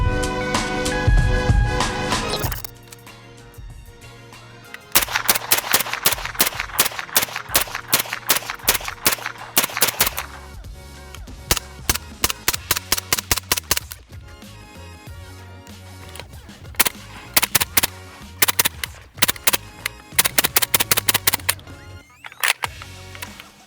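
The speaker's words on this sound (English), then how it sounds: "Today we're gonna be shooting the MP5s in a couple different suppressor configurations." A suppressed MP5 submachine gun fires strings of sharp, close shots in rapid bursts, separated by short pauses.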